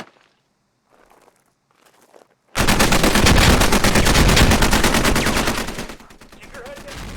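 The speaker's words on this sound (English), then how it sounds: "You will be stressed, and this is a live fire exercise." Loud, rapid bursts of live machine gun fire during a military training exercise, a continuous close-range rattle lasting several seconds and then tapering off, preceded by faint shouted voices.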